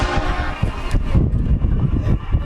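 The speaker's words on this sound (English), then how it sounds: "controlling the train horn to scare the living hell out of people." A loud train horn blasted as a prank fills the scene, a harsh sustained blare over heavy rumbling noise, close and overpowering.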